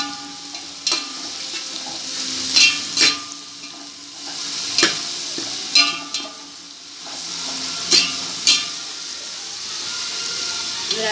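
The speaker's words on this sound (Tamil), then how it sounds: "வெங்காயம் நல்லா வணங்க ஆரம்பிச்சிருக்கு" Onions frying with salt in a pan for mutton biryani, a steady sizzle broken by sharp clanks of a spoon stirring against the pan every couple of seconds, close and fairly loud, with no talk.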